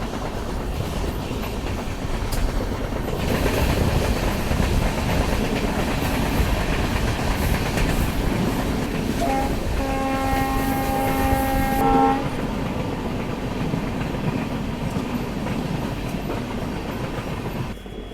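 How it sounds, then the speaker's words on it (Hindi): A passenger train on the line to Manipur rolls toward Arunachal Junction station in Assam at dusk, a steady loud rumble and rattle of carriages with a long horn blast sounding midway. "अपनी ट्रेन बस पहुंचने वाली है अरुणाचल जंक्शन रेलवे स्टेशन।"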